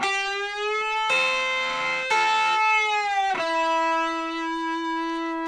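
Electric guitar plays a short blues lick of sustained, bending notes with a slightly effected, singing tone, several notes ringing out alone.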